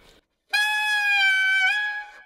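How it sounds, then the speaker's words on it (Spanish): A single sustained saxophone note, played alone and up close, bends in pitch partway through by lip control instead of fingering, then fades out. "lo que hago es doblar la nota"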